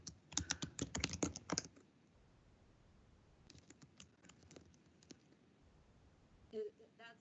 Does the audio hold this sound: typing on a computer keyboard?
yes